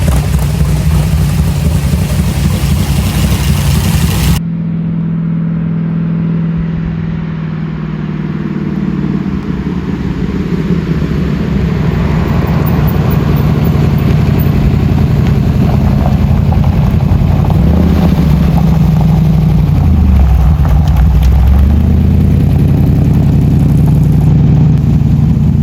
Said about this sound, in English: Let's take it for a real test drive out on the road